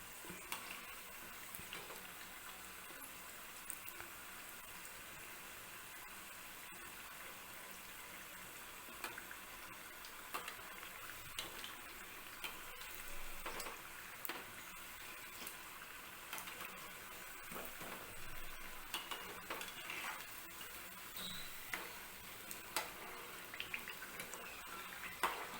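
Samosas made from leftover chapati fry in oil over medium heat, giving a soft, even crackle with scattered small pops throughout, fairly quiet and with no talking.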